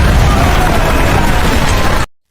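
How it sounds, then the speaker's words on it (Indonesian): A bomb blast in a film scene, a dense, sustained rumbling roar that fills the clip loudly for about two seconds before cutting off abruptly. "Nina kecil pun mengaktifkan bomnya."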